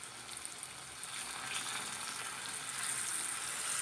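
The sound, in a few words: fish coated in chiroti rava and cornflour frying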